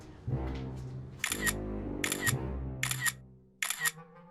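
A camera shutter fires four times in a steady rhythm while someone takes a selfie, each crisp click standing out over a low, constant tonal background.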